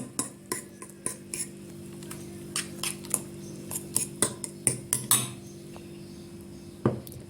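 A spoon scrapes and clinks against a bowl while stirring a grated zucchini mixture with grated kashar cheese, sharp metallic taps in an uneven rhythm, close and fairly loud, with a soft steady hum underneath and no talk.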